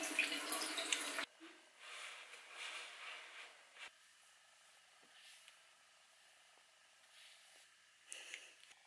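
Tap water runs at a bathroom sink during face washing, a loud hissing rush at first, then a quieter trickle with faint splashes and drips, ending in a brief surge of flow.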